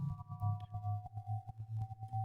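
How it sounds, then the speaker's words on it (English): A low, steady synth bass tone built from a flat sine wave pulses in a regular rhythm, each note swelling and fading with a faint higher harmonic ringing above it. "we start off with this very flat sine wave here"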